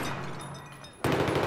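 Gunfire in an online first-person shooter match: a low, hissing stretch gives way to a sudden, loud, dense burst of shooting that keeps going to the end, with no talking.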